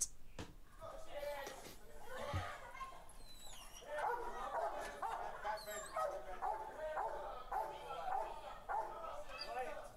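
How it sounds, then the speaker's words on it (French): A dog barks and whimpers with sharp yips and whining cries during a police intervention, fairly far and faint, mixed with shouting voices and street noise. "Pas content le chien là."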